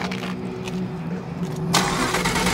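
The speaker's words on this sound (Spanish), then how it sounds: "A ver, enciéndelo, quiero oír el motor." A twin-turbo car engine turns over and catches, its idle rumble steady and close before a sharp rise in noise near the end as it fires up more fully, with no talking.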